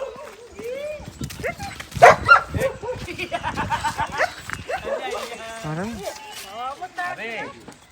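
A stray dog outdoors gives a few short barks and yips, mixed in with someone talking nearby throughout.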